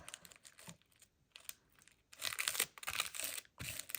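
Paper crinkles and rustles up close as a coffee filter or book page is folded, in soft scattered bursts that grow louder toward the end, with no talk.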